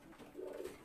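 Pigeon cooing from a racing pigeon in a breeding loft, a soft low coo rising and holding for under a second, fairly close and alone.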